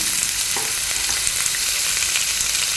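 Green chillies, ginger and garlic fry in oil for a chutney, producing a steady crackling sizzle with light stirring scrapes, close and continuous without talk.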